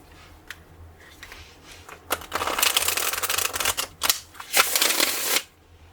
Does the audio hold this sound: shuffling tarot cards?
yes